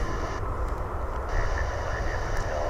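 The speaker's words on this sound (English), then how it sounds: "That was Flight 1534 coming in from Ontario in California" Airplane landing at DFW Airport, a steady broadband roar of jet engines and rushing air, loud and continuous with a faint voice underneath.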